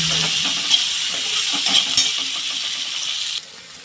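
Okra frying in a pan for a tempered curry, a steady sizzle and hiss with some stirring scrapes, close and continuous until it drops off abruptly near the end.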